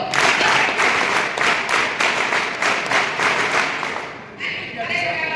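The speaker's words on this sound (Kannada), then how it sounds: "ಜೋರಾದ ಚಪ್ಪಾಳೆ ಮೂಲಕ ಕ್ಲಾಪ್ಸ್ ಗೋ." Loud, sustained clapping from a crowd of scouts and guides at a training camp gathering, dense and continuous for about four seconds before thinning into scattered claps.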